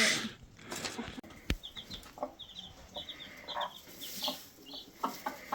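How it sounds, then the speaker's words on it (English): Small chick in a Swedish farmyard giving a series of soft, high peeping clucks in short bursts, close by, over light outdoor background noise. "Baby chicken."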